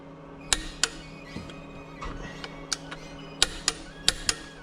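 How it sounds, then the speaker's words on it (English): Torque wrench ratcheting on the differential fill plug of a BMW M550i, a series of close sharp metallic clicks spaced irregularly over a low steady hum, with no talk. "I have my torque wrench set to 45 Newton meters."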